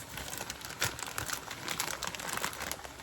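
Plastic cheese bag crinkles and rustles close by in quick, irregular crackles, with a few sharper snaps as the bag is handled.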